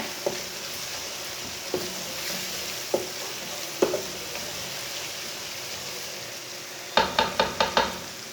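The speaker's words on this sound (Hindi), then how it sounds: "टमाटर डाल के मैंने 2 मिनट तक भून लिया।" Tomatoes fry for dal in a pan with a soft continuous sizzle, broken by a few single spoon knocks and then a quick run of five scraping taps near the end.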